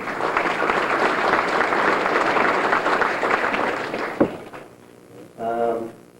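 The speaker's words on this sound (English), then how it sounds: "Nice round of applause, Mr. Chisholm." Audience applause at a high school hall of fame evening, steady and full for about four seconds, then tapering off into a few scattered claps and a brief voice.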